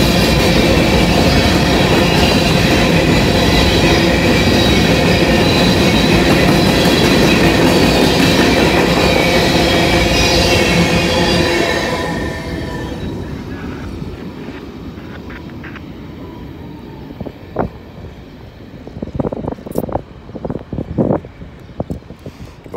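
A long freight train rolls past close by, a loud dense rumble and rattle of wagons that cuts off abruptly, leaving quieter clanks and scattered metallic squeals from the wheels as it moves away.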